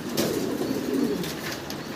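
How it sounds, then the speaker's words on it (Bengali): Low, soft cooing of Spanish pigeons, a few rounded calls close by with faint background rustle. "1 জোড়া স্প্যানিশ কবুতর আছে দর্শক"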